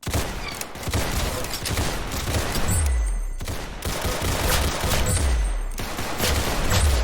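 Video-game pistol gunfire rings out in rapid volleys of sharp shots, loud and close, with brief gaps between the bursts.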